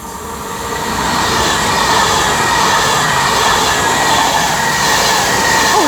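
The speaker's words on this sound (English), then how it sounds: "Oh, we got another Pendolino as well." Pendolino train passing on the West Coast Main Line at Marston Green: a loud, steady roar of rolling wheels and rushing air that swells in and holds close throughout.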